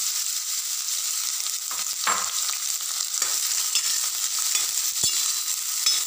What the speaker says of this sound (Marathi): हे असंच 1 ते 2 मिनटं आपण परतून घेणार आहोत